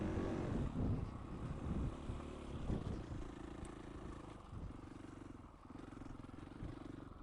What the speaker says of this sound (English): For those of you interested, it's a FE 500 Husqvarna.